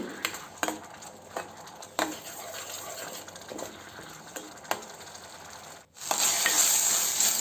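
Blended tomato juice masala frying in a pan for a cowpea curry, with a low steady sizzle broken by sharp stirring clicks of a spoon against the pan, and a louder rush of frying near the end.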